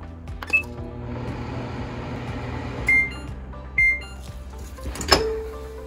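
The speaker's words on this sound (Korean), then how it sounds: "전자레인지에 넣고 1분 돌린 다음" A microwave oven hums steadily while heating squid, with a few short beeps and clicks punctuating the drone.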